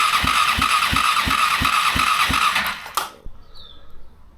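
A 23-year-old crashed Honda VFR800 motorcycle engine cranks over on the starter during a compression test on cylinder 4, with about eight steady, evenly spaced compression pulses under a loud whir before it cuts off abruptly.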